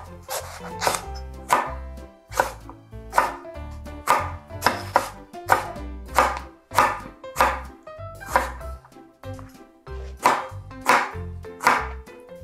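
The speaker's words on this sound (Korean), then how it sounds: "가지는 먹기 좋은 크기로 잘라줍니다." A kitchen knife chops eggplant into bite-size pieces on a cutting board, about fifteen crisp, close strikes in a fairly even rhythm with brief pauses between strokes.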